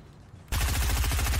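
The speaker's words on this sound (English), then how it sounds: "They're shooting at me!" Rapid automatic gunfire in a shooter video game, starting abruptly after a brief quiet moment and continuing as a loud, fast, evenly spaced burst of shots aimed at the player.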